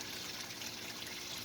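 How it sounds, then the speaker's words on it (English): Water trickling down a small backyard waterfall beside a stock tank, a brief, faint, steady splashing burble with nothing else audible. "Water comes out and runs down our little waterfall."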